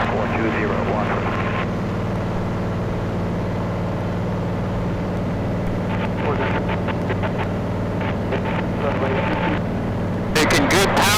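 Steady drone of a Cozy MKIV airplane engine at takeoff power during the roll, constant and loud throughout, with someone talking over it.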